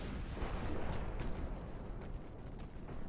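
Warship 8-inch guns in the naval game Ultimate Admiral Dreadnoughts produce a low, rumbling roll of distant booms, a dense muffled barrage at low volume.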